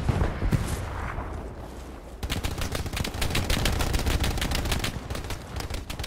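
Rapid bursts of automatic gunfire crackle through a video game sniper match, a dense rattling stream of shots that starts after a muffled opening and continues steadily, fairly loud with a busy battlefield din underneath.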